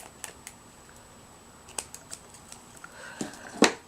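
Scissors trim a section off an altered bell bauble in a craft session: a few quiet, close snips and small taps spread over a few seconds, ending in one sharper cut, with no talking.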